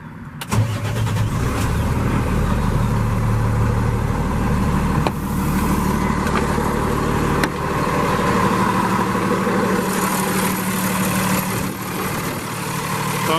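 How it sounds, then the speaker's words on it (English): A 2017 Freightliner Business Class M2 106 truck with a Cummins ISL 300 hp diesel and Allison automatic cranks briefly, fires and settles into a steady, deep diesel idle, loud and close throughout with no talking. "I'm gonna fire it up here, let you hear it run."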